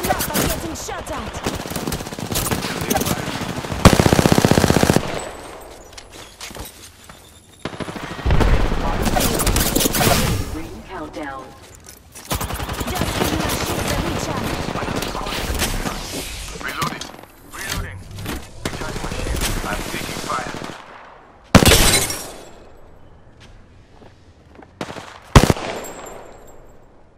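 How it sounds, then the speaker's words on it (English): Video game combat: repeated bursts of rapid automatic gunfire come in loud, irregular volleys separated by quieter gaps, with voices in the background. "Listen up, I'm getting shot at."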